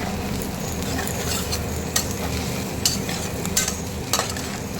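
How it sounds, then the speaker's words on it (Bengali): Slices of spiny gourd (kakrol) fry in a pan with a continuous loud sizzle, broken by a few brief spatula scrapes and taps, heard up close with no voices. "কাঁকরোল ভাজা হয়ে এসছে"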